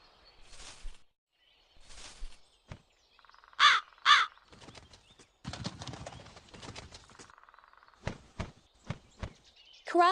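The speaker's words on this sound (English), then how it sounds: "Crow." Crow cawing in a children's first-animals game, several loud harsh caws in short bursts with faint footstep-like taps and clops between them, no speech.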